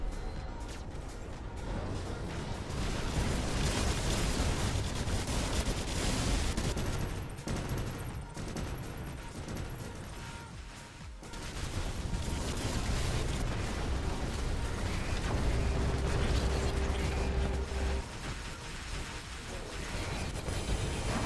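Robot weapons in the War Robots game fire in dense, overlapping bursts and blasts, loud and continuous with brief lulls, as a sustained barrage of gunfire and explosions.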